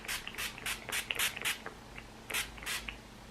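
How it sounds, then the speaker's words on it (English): Urban Decay All Nighter Setting Spray misted onto a face, a string of short, soft hissing pumps in quick clusters, fairly quiet and close, with no speech. "So I'm gonna go in with the Urban Decay All Nighter Setting Spray and just set"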